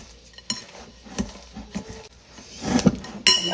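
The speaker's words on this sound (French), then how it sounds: "Et on continue de mélanger." Muffin batter with yogurt stirred in a bowl, with a spoon or utensil clinking and scraping against the sides in irregular taps and louder knocks near the end, with no talking.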